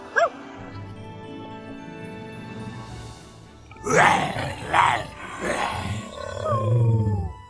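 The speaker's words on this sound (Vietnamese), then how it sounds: "tiếng hổ gầm ở xa lắm" A tiger roars far off in a Vietnamese 3D animated folk tale, deep drawn-out growls rising in several bursts over a low rumbling bed in the second half, with a quieter, faint opening.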